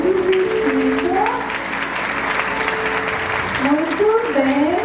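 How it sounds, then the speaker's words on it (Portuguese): An audience at a ballet performance applauds steadily throughout, while music with a sliding melodic line plays over the clapping. "agradece a plateia e recebe os aplausos e fica"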